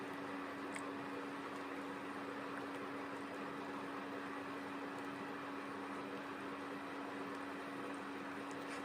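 An egg with coriander leaves fries in a pan, giving a steady, even sizzle that stays close and unbroken throughout, with a faint low hum underneath and no voices.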